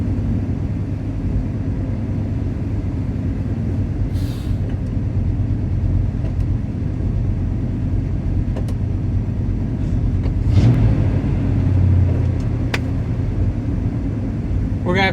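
A 1969 Plymouth Fury III engine runs with a steady, close, low rumble that swells slightly near the end, while voices are faintly heard at moments.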